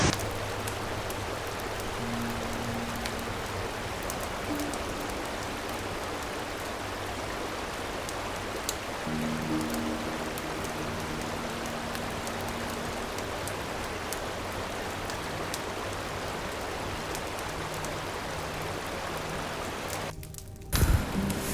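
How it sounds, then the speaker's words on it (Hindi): A river flows beside a rainy campsite in Pahalgam, Kashmir, a steady wash of rushing water and rain patter lasting throughout, with faint tonal hum in the background and a brief rustle near the end. "अब बस यहाँ पे थोड़ी देर में और रुकूँगा, नदी की आवाज़ सुनूँगा"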